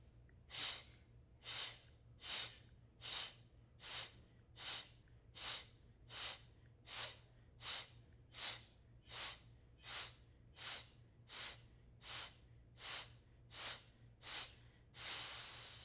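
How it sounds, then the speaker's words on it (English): A long series of deep breaths taken during a gentle yoga class, about seventeen evenly spaced airy inhales and exhales in a steady slow rhythm, close and clear over a faint low hum, with no talking. "Take a deep breath in."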